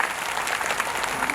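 Audience at a political rally for the chief minister of Bihar in Nalanda claps continuously, a dense wash of applause from a large crowd holding steady across the brief moment.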